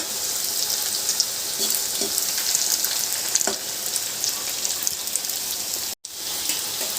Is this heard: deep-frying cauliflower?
yes